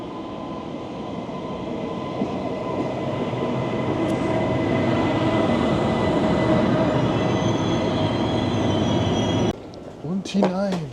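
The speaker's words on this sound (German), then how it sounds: "Und hier kommt unser ICE." A German ICE high-speed train rolls into a station, a loud, steady rumble of wheels and carriages building and holding for about nine seconds before cutting off, followed by brief clatter and squeal-like tones at the end.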